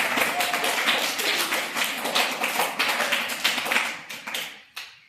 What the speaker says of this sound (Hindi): सब लोग अपने लिए तालियां बजाओ।